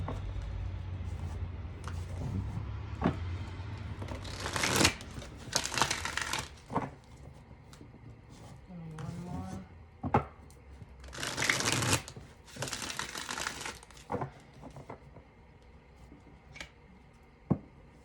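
A deck of tarot cards being shuffled by hand, with repeated bursts of riffling and softer shuffling and tapping between them, close and fairly quiet with no talking.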